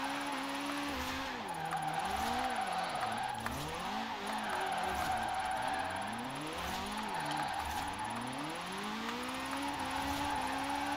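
A car drifting and spinning out in Forza Horizon 4 gives a sustained whining engine that swoops repeatedly up and down in pitch, with tire squeal over a steady roar.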